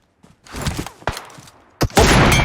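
Gunfire in a battle royale video game: a few scattered shots, then a sharp loud crack, and a dense, heavy volley of shots that runs to the end.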